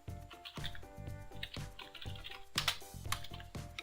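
Typing on a computer keyboard in Microsoft Word, with Enter being pressed: soft, close, irregular clicks and taps with a few sharper louder keystrokes among them, over faint background hum.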